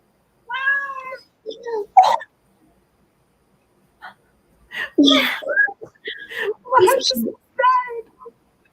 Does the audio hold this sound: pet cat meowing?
yes